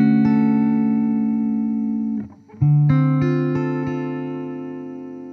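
Ibanez AMH-90 CRF hollowbody electric guitar, a 2021 jazz model, holds long sustained notes with wobbling vibrato bends, a brief break midway, then a fresh chord ringing out loud and alone.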